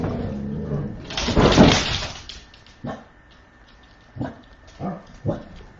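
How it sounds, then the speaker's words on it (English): Indoor dogs bark in a loud burst of overlapping barks, then several shorter single barks and yips follow at intervals as the commotion settles. "Someone's walking and they're barking, and then Sky just knocked over a place bed"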